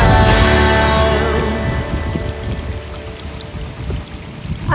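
Water said to come straight from the Ganga pours hard and close at first, then tapers into a softer, thinner stream and trickle.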